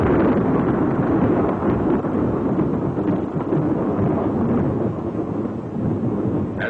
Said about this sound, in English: Seconds later, the blast wave reaches the trenches.